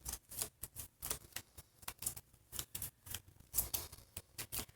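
A deck of game cards is shuffled during a tabletop card game session, giving a quick run of crisp, papery riffles and snaps that repeat in short bursts, close and fairly quiet.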